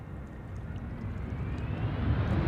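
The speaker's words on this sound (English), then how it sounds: "Delta Airlines flight 136 arriving from Detroit, Michigan." A Delta Air Lines Airbus A330-300 arriving at Amsterdam Schiphol Airport, its engines a steady, deep rumbling roar that swells slightly louder toward the end, with no talking.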